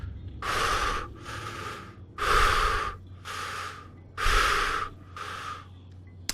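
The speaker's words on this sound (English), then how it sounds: "you can just hear this heavy, steady breathing coming from just around the corner" Heavy, steady breathing from around a corner in an Alien RPG scene: five or six slow, loud breaths, each a long hissing inhale or exhale with a short pause between, close and raspy.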